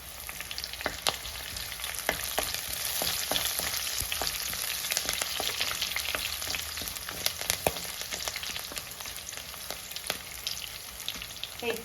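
Dried chillies and curry leaves fry in hot oil for a Kerala-style fish curry, giving a continuous dense sizzle with frequent small pops and crackles, close and steady throughout.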